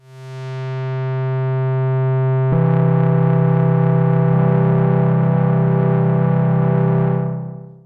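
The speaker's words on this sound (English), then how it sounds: "So now let's listen to all the oscillators together. The major chord, I'll start with the root on oscillator 1." Behringer Model D synthesizer oscillators sound a sustained major chord, starting as a single bright buzzy tone and thickening abruptly as further oscillators join, holding steady and loud before fading near the end.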